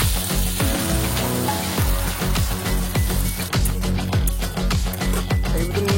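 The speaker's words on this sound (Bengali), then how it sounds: "এখন আমরা পেঁয়াজটা দিয়ে দেবো। পেঁয়াজটাকে ভেজে নিই।" Onions frying in a pan at a forest campsite, a steady close sizzle with a run of regular sharp clicks and scrapes from stirring, plus a low background hum.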